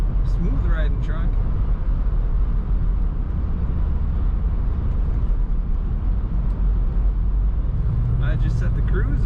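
A 1990 Chevrolet Blazer 4x4 drives along a road, a steady low engine and road rumble heard from inside the cabin, with a person talking over it.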